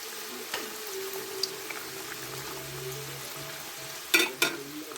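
Egg puffs deep frying in hot oil, a steady close crackle and bubbling hiss that holds evenly, broken near the end by two sharp louder spatters.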